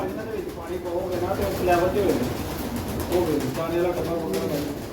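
Pigeons coo repeatedly in low, throaty bursts, with a busy background of chatter and movement close by.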